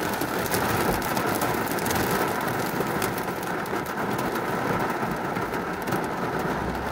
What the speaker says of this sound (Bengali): সারাদিন ধরে থেমে থেমে বৃষ্টি হচ্ছে।